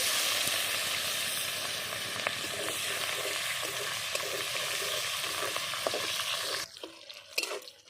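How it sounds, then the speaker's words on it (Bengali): Chopped onions with whole cumin sizzle loudly in hot oil on a clay stove, a dense steady frying hiss with occasional stirring scrapes, then the sizzle drops away abruptly near the end, leaving a few clinks. "আর পেঁয়াজটা ভেজে নিয়েছি"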